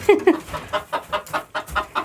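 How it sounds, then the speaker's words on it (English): A hen clucks in a backyard coop, a steady run of about ten short, loud, close clucks at a regular, slightly quickening pace with no talk over them. "This is the one that pecked me. Crazy chicken."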